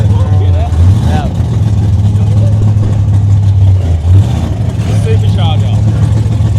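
A supercharged Holden Rodeo engine rumbles loudly and rises and falls through short revs at a Summernats car event while people talk close by.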